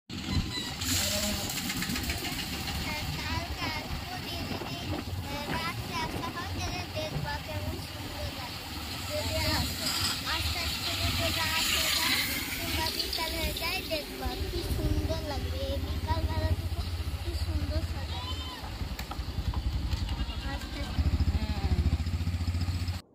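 A motorcycle rides along a road with strong wind buffeting, an engine drone and rushing wind noise continuing throughout while people talk over it.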